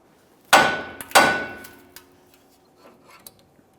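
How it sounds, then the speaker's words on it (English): Two sharp metallic hammer strikes about half a second apart on a steering knuckle to free the tie rod end, each ringing briefly, followed by a few lighter taps and clinks. "to separate this, you could use a hammer and just cause some light vibration here"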